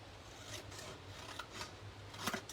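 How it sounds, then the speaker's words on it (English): Scissors snip through a kraft paper gift box, cutting from a corner to a score line in a few short, faint, close cuts with no speech. "just take and cut from the corner where I cut to this other score line"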